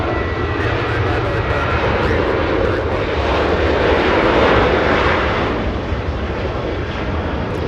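A Southwest airliner taking off at Los Angeles International Airport, a loud, continuous jet-engine roar that swells toward the middle and then eases slightly, heard alone.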